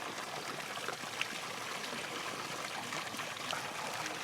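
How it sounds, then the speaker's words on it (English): A fountain of fresh mountain spring water bubbles and trickles continuously, a dense, even splashing stream heard up close with no one speaking. "bubbling mountain spring water."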